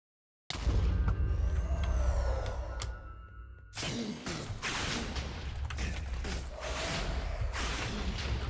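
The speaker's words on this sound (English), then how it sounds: "there's going to be an explosion as soon as his health reaches maximum" Explosions go off around the Wither boss in Minecraft as a loud burst, followed by roaring rumbles and crackling blasts that rise and fall over several seconds.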